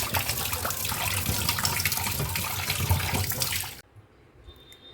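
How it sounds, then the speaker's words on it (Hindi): RO water runs steadily from a tap while a clay curd pot is rinsed, a close, continuous gush that cuts off abruptly near the end, leaving quiet. "बर्तन को धोने के लिए मैंने आरओ के पानी का ही इस्तेमाल किया है।"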